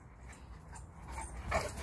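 A Cane Corso dog whimpers softly in a few faint, high whines, with quiet room noise around it and no talking.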